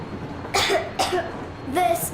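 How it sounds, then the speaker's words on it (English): Three short coughing bursts from a character in the video game Metro Exodus, spaced about half a second apart, fairly close and clear, with no talking. "I have this cough."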